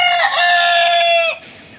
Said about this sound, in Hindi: ये मुर्गा जो है वो काफ़ी बड़ा है ना